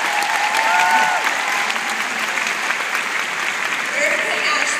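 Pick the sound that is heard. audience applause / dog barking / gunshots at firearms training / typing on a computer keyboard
audience applause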